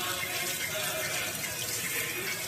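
Tap water runs steadily into a sink while eggs are washed by hand, a constant close hiss of flowing water with no breaks.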